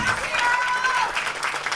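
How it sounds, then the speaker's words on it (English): Audience applause at a Relay for Life charity event in West Bloomfield, a steady wash of clapping from a crowd with voices mixed in throughout. "Give them another round of applause"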